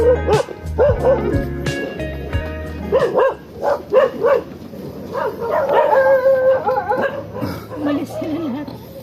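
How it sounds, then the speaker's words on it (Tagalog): Several dogs at a beach in Calatagan bark, yip and whimper in repeated bursts close by, with people talking over them. "Ang dami pong dog dito."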